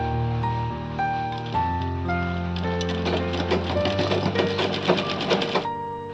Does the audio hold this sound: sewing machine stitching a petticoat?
yes